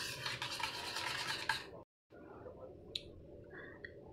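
Cooking oil is stirred into a sugar and curd mixture for a kulfi faluda cake batter, giving soft wet squishing and scraping. The rubbing stops for a brief gap, then resumes with a few light clicks.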